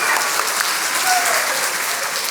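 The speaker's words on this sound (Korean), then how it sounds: "박수 한번 주세요." Church congregation applauding during a sermon, a steady, dense wash of clapping from a sizable indoor crowd that fills the whole moment without any speech.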